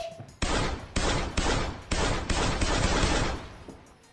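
Several loud, close gunshots go off in rapid succession during a comedy sketch, about six heavy blasts roughly half a second apart, each fading into a noisy tail, with no talk.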